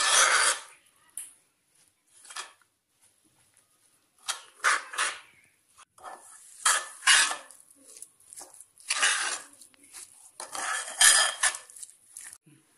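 Ground roasted chana dal and rice being mixed with pumpkin by hand in a kitchen for sweet dumplings, giving intermittent scraping, rubbing and clinking of a utensil against a bowl in short bursts with pauses between, close and fairly quiet.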